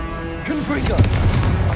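A Confringo blasting curse goes off in Hogwarts Legacy, a burst followed by rumbling booms and crackle over a busy mix of game effects, with a voice heard partway through.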